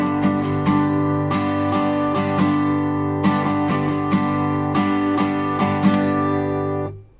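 Acoustic guitar strummed in a quick sixteenth-note pattern at full speed, from an intermediate rhythm lesson on a song. Crisp, loud, evenly driving strokes ring out alone for about seven seconds before fading.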